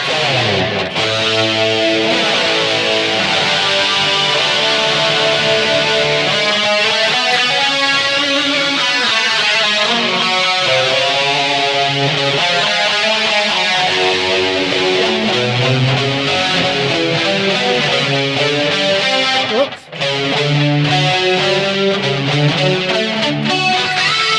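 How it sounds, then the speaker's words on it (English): Thick, sustained electric guitar through an overdrive distortion pedal on a BOSS eBAND JS-10, playing chords and riffs continuously, loud and saturated, with one brief dropout near the end. "Let's go into the Overdrive distortion pedals and see what I'm using there."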